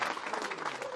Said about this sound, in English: Let's get a big round of applause for EPT 12 Prague champion Hossein Ensan.